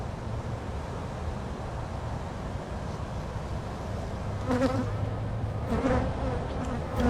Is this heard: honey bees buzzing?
yes